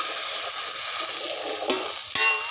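Spice masala for a Bengali rohu fish curry sizzling in a pan, with a sudden louder sizzle and hiss burst near the end as water hits the hot oil and spices, close and steady throughout.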